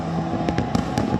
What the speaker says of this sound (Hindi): रियो डी जेनेरो के मशहूर कोपाकाबाना बीच पर आतिशबाजी के साथ नए साल का आगाज किया गया।